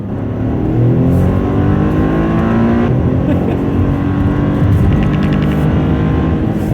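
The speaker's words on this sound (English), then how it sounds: "So the 3-cylinder, it sounds so cool too." A small three-cylinder turbocharged Toyota engine revs hard and steadily, a loud continuous growl with rising and falling pitch, close by.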